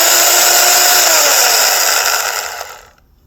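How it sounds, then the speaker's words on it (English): An electric chainsaw from Harbor Freight runs loud and close with a high, buzzing motor whine that holds steady, then winds down and fades to silence as the trigger is released. "It's a little louder than I thought it was going to be, but well, it's a chainsaw"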